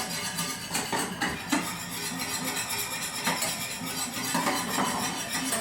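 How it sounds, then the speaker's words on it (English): A whisk beats batter steadily in a bowl while grilling chicken, giving a continuous quiet scraping and clinking against the bowl's sides. "keep whisking away"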